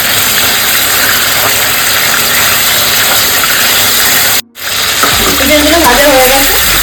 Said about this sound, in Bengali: চিকেনগুলোকে সাদা তেলে ভালো করে ভাজতে হবে।